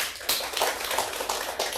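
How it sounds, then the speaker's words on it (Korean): Congregation in a church giving a round of encouraging applause for three welcomed guests, a dense wash of many hands clapping at moderate loudness with swells and no talk. "여러분의 격려의 박수"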